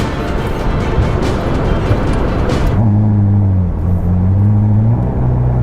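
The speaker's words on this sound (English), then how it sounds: "But since this is a Ferrari, let's throw her into life." A 1000-horsepower Ferrari SF90 starts up early in the morning, switching from a broad hiss to a close, low rumbling hum with steady droning tones that waver slightly.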